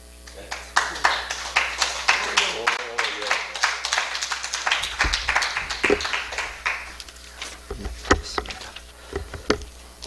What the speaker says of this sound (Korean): 올라오실 때 박수로 환영해 주십시오.